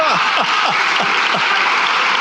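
Applause in the Spanish parliamentary chamber: a loud, continuous wash of clapping from many members, with repeated falling whoops of laughter or jeering rising above it.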